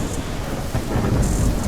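Heavy rain pours in the video game The Isle, a dense, loud wash of noise with a low rumble of thunder rolling underneath and no voices.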